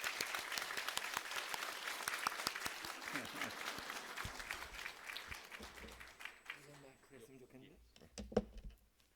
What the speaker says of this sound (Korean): 우리 큰 박수로 목사님 환영해 주시면 좋겠습니다.